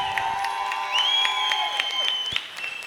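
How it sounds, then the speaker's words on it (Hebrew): An audience at a celebration applauds with a sustained patter of hand claps, mixed with cheering and whistling tones, for nearly three seconds before it eases off slightly. "אז תעשו מחיאות כפיים לירין וירין"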